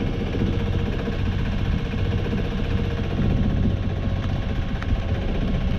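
The inboard engine of a 1970 Contessa 26 sailboat motors out of Pwllheli harbour in Wales. It makes a steady, loud, rumbling drone with constant vibration throughout.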